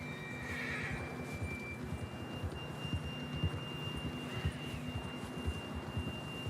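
A horse in the Red Dead Redemption 2 video game whinnies near the start over a constant low hum and steady hoof clip-clop, the whole scene fairly quiet.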